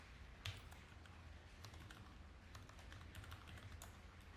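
Keys clatter on a computer keyboard during data entry for an Excel automation workflow built in UiPath, a quiet run of irregular taps with a few sharper clicks over a soft steady hum, no voices.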